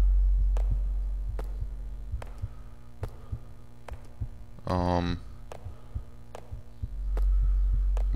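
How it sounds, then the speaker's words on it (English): Heartbeat in the horror video game SCP The Fear: a steady series of deep, soft thumps repeats throughout, with a brief droning tone partway through, and no talking. "Why is there a heartbeat?"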